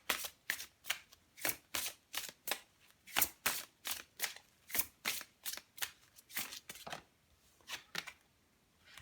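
Tarot cards being shuffled and drawn: a steady series of crisp riffling and slapping card sounds, close and clear, repeating roughly every half second with no talking.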